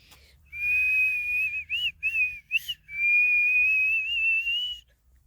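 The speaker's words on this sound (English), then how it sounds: "You can whistle the birds and they will call back to you." A person whistles outdoors in a natural setting, trying to call birds: a long sustained tone, a few short warbling breaks, then another long held whistle, fairly close and clear with no reply.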